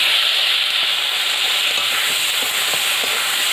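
Pieces of elephant foot yam (meta alu) hit hot oil in a pan, giving a loud, dense, steady hiss of frying that holds without a break and has no voices over it.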